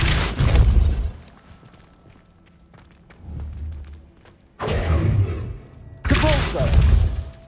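Depulso spell casts in Hogwarts Legacy land as sharp, forceful bursts with a thudding low end. One hits near the start and two heavier blasts follow later, separated by quieter game ambience.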